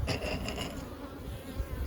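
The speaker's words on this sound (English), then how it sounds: "That bee tried to sting something." Honeybees buzz loudly and close during a beehive inspection, a dense continuous hum with a few brief thumps and no talking.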